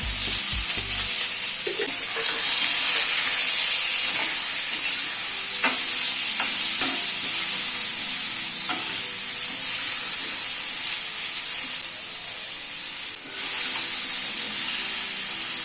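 Potato and pumpkin pieces frying with turmeric in a pan over a medium gas flame, a loud continuous hissing sizzle with occasional faint stirring knocks, close and steady.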